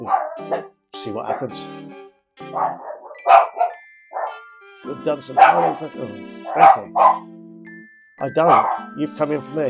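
A pet dog barks and yips in repeated loud bursts close to the microphone, overlapping with a person talking throughout.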